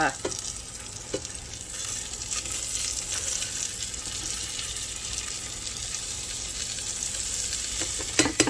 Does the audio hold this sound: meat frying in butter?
yes